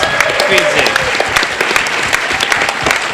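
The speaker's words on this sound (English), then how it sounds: "Big round of applause." Lively crowd clapping at a BronyCon 2013 convention panel, loud and close, with scattered whoops and talk running under the sustained applause.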